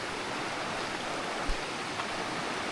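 A mountain creek in the Great Smoky Mountains rushes over rocks in a steady, broad, close wash of water, with a soft thump partway through.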